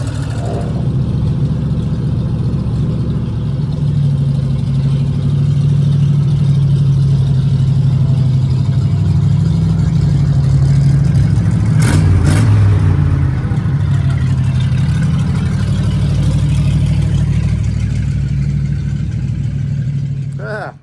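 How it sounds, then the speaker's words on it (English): A car engine fitted with only one muffler rumbles loudly and steadily with a deep exhaust tone, rising in a rev near the middle before settling back. "I forgot it's only got one muffler on it. And it sounds good."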